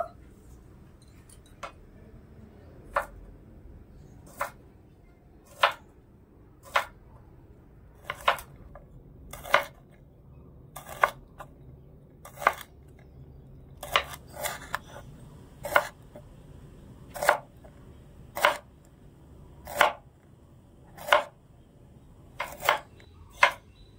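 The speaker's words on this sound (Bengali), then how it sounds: "এবারে কুঁদরিগুলো আমি একটু কেটে নেব।" A knife chops ivy gourd (kundri) on a cutting board in a home kitchen, with sharp, evenly spaced cuts about once a second over a quiet background.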